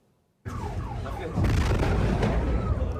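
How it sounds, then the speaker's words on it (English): Air raid sirens sound across Kyiv, Ukraine during an overnight aerial attack, a loud sustained wail with rising and falling tones that starts abruptly and swells louder partway through, with broad rumbling noise beneath. "the first air raid sirens across the country overnight started just as President Trump and President Putin got on the phone"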